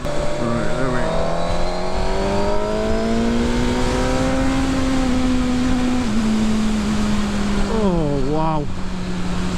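A 2019 Suzuki GSX-R1000R motorcycle engine screams loud and close, rising steadily through third gear with sharp shifts near the end, while a rider speaks briefly over the constant roar.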